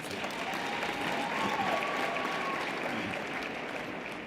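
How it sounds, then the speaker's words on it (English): Graduates at a spring university graduation ceremony receive sustained applause from a large audience, a dense, even wash of clapping that holds steady throughout and sounds somewhat distant. "we must give them a big round of applause"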